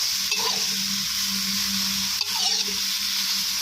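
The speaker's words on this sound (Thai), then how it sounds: "ใส่พริกหยวกลงไปนะครับ ตามด้วยพริกแดงนะครับ ใส่ลงไปผัด" Bell peppers and red chili stir-fried in a hot pan for Thai black pepper pork give a steady, close sizzle with spatula scrapes and stirring clatter throughout, no voices.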